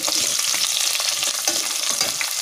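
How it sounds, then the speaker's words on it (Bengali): Chopped onions frying in oil in a pan for a Bengali yogurt chicken dish, giving a loud, dense, continuous sizzle close by with a faint crackle and no voices, lasting the whole time. "পেঁয়াজটা একটু ভালো করে বাদামি করে ভেজে নেব"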